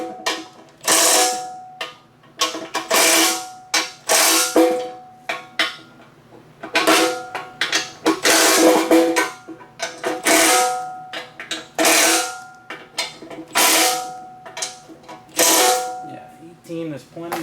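Wrench snugging the bolts of a Holley oil pan on a Ford LTD engine, loud close metallic ratcheting clicks in repeated short bursts with brief pauses, a voice talking softly in between.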